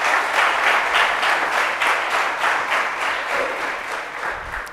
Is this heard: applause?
yes